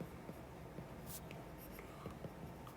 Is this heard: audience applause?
no